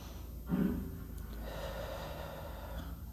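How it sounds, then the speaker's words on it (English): Deep breathing during a guided meditation: a loud, close inhale with a snort-like rush early on, followed by a long, soft, steady exhale; no speech. "Breathe again."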